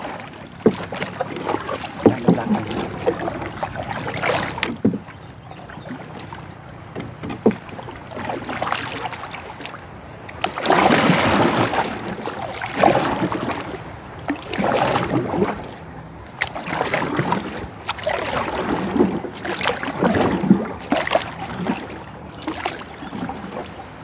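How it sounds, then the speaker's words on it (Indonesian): Water splashing and sloshing in irregular bursts as a paddle sweeps to turn a small wooden rowboat, with some wind noise over the microphone. "Ini saya belokkan perahunya."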